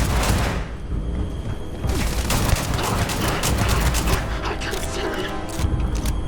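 Gunfire from a weapon in the video game Starfield, a dense, loud, continuous barrage of shots and booms that fills the whole stretch, with a voice talking underneath.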